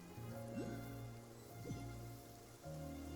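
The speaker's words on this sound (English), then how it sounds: "Is it still gonna be raining when I come out of the cutscene?" Steady rain patters in a Genshin Impact scene, with a low synthetic hum and a couple of brief sliding tones, no talking.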